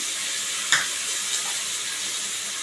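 Water splashed into ground mustard and chili paste frying in a pan, a brief pop followed by a steady hissing sizzle, close and fairly quiet, with no voices.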